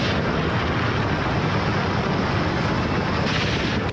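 Military helicopters and aircraft in news footage produce a loud, steady broadband roar of engines and rotors that holds unbroken throughout.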